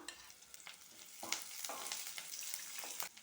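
Dried red chillies, a large onion and curry leaves sauté in a pan, a quiet, steady sizzle with scattered crackles and a few louder stirring scrapes.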